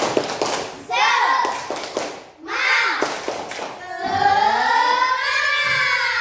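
A school class performs the tepuk semangat routine, bursts of rhythmic group clapping alternating with children chanting and shouting together in unison, close and lively.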